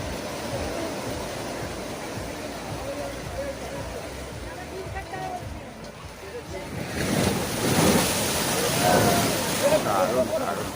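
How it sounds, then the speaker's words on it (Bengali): Sea waves roll onto the beach at Digha, a steady broadband wash of surf with wind noise on the microphone, swelling louder near the end as a bigger wave breaks close by. "ঢেউসাগরের ঢেউ।"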